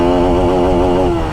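A Bajaj Pulsar RS200 motorcycle accelerates hard in first gear, its engine note loud and close, with a steady rising buzz that climbs smoothly in pitch for over a second without pause.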